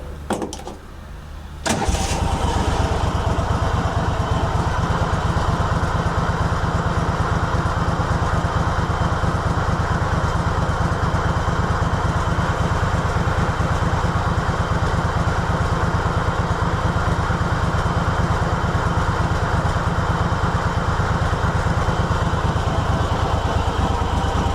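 Kohler Command engine on a Craftsman GT5000 lawn tractor, running slightly rough, starts up after a brief quiet moment, then runs loud and steady close by for the rest of the clip.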